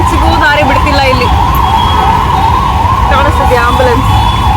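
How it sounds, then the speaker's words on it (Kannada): Loud ambulance siren wailing steadily in traffic, close and continuous, with a rising and falling tone over engine rumble and a faint voice underneath. "ಆಂಬುಲೆನ್ಸಿಗೂ ದಾರಿ ಬಿಡ್ತಿಲ್ಲ ಇಲ್ಲಿ."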